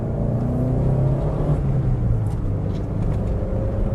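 A Fiat car with 14-inch wheels drives along with a steady, loud engine drone and road rumble heard from inside the cabin, the pitch shifting slightly as the gears change.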